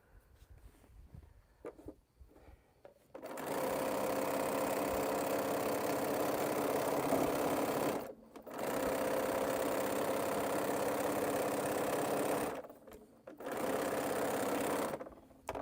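A sewing machine stitches quilt pieces in three long steady runs, loud and close, broken by brief pauses with faint handling noise before the first run.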